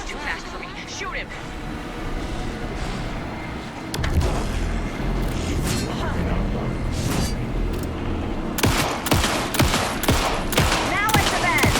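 Continuous automatic gunfire fills a scene in Alan Wake 2, a loud, dense rattle with rumbling low booms that intensifies partway through, while voices call out over the shooting.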